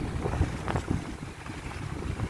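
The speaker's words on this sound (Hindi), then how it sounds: "हवा बहुत लग रही है आज" Strong wind buffets the microphone beside Keenjhar Lake in Thatta as a boat passes on the water, a continuous loud roar with gusty swells and some wave wash.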